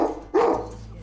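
A dog barks once, loud and close, in a rescue kennel, with a faint whimpering tone before the bark and a quieter hum of the kennel room after it.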